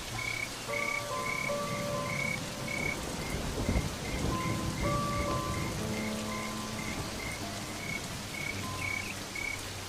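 Steady, dense rain pours down in the Serengeti, mixed with rhythmic chirping from frogs or insects and a low rumble, with no voices.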